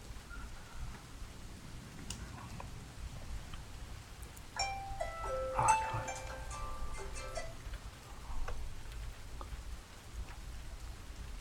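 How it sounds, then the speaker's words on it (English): Rain plays as a soft background recording, a faint steady patter with scattered drops, while a few brief chiming tones ring out midway. "rain sound running in the background, so instead of music."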